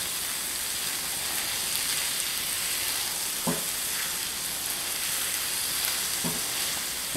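Fat and flour sizzle steadily in a pan, a constant bright crackling hiss with a couple of soft clinks of stirring, and no talking.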